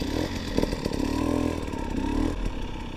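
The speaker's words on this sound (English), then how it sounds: "this is my brand new KTM 250 TPI. I'm going to test it now" A brand-new, stock KTM 250 TPI two-stroke enduro motorcycle on its first ride runs close by with a loud, buzzing engine note that swells and dips as the throttle is worked.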